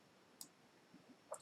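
A computer mouse clicks quietly on an OK button, with a few sharp, isolated clicks spaced apart against near silence.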